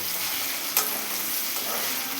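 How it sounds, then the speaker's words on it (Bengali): Continuous loud sizzle of tomato and onion frying in a pan with whole spices, with a brief stirring scrape near the start. "টমেটো, পেঁয়াজ কষা হচ্ছে, এখন ভাজা হচ্ছে।"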